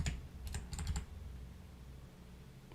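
Close, quick bursts of key clicks from a computer keyboard, in two or three short clusters with quiet gaps and a final tap, and no talking.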